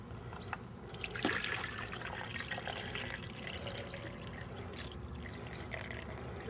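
Water poured into bottles for backyard fireworks, an uneven trickle and splash that is strongest early on, followed by quieter dribbling and a few small knocks.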